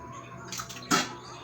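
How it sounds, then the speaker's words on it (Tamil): Wheat-flour porridge cooked in plain water boiling in a pot on the stove: a couple of short, soft bubbling splutters up close over a quiet background. "இப்போ இது நல்லா வந்து பாயில் ஆயிடுச்சு நல்லா வந்து கொதி வந்துடுச்சு இல்லையா"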